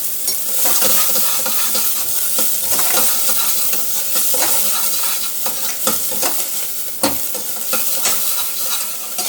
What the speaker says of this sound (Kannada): ಇವಾಗ ಆನಿಯನ್ ಹಾಕ್ತಿದ್ದೀನಿ, ಮೆಣಸಿನ್ಕಾಯಿ ಹಾಕಿದ್ದೀನಿ.